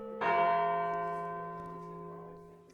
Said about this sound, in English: When the last bell rings, I force myself to death march back to my base classroom.